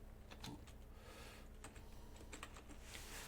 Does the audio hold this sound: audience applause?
no